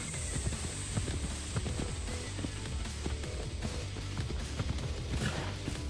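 A horse's hooves clip-clop in a steady walking rhythm in the video game Assassin's Creed Shadows, faint and continuous under a background hum.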